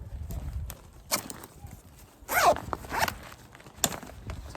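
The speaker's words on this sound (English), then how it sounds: "And then I make sure the zipper is closed again all the way." Heavy-duty zipper being pulled closed on the mulch bag of a Black and Decker 18-inch hedge trimmer, several short rasping pulls with pauses between them, close and distinct.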